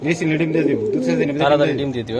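Pigeons coo steadily at close range, a female and male of a racing or Damascene breed, with overlapping throaty calls through the whole stretch and no talk.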